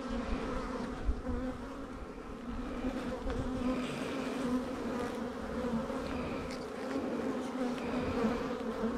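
Honey bees buzz steadily at an open hive with full, uncapped comb, a dense, continuous drone that stays close and constant throughout, with no talking.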